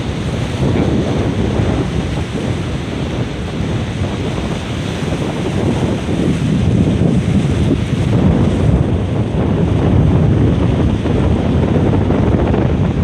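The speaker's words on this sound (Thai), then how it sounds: "รีวิวสภาพคลื่นลมนะครับ" Steady, loud wind and surf roar at a boat pier serving Koh Phithak island in Lang Suan, Chumphon, Thailand, a dense continuous rush with gusty buffeting on the microphone and no talk.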